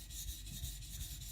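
A kiridashi knife is rubbed back and forth on a whetstone under light pressure, giving a soft, steady gritty scraping with a faint rhythmic pulse. The sound is close and quiet, with no voices.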